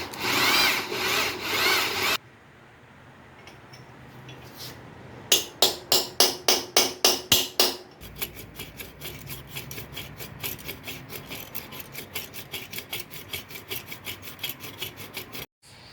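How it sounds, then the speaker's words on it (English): Hacksaw blade strokes rasp steadily through a seized engine piston, preceded by a burst of harsh scraping and a run of about eight loud, evenly spaced strokes, then faster continuous sawing. "I've then made some vertical cuts with a hacksaw blade"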